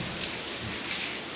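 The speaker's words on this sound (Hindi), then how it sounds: "क्योंकि बहुत तेज़ बारिश हो रही है।" Heavy rain pours steadily outside, a dense, even hiss of drops drumming on surfaces close by, with no voices over it.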